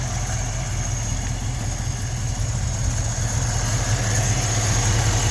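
The engine of a 1956 Ford truck idles on its own fuel tank, a steady, close, low rumbling drone that holds even throughout.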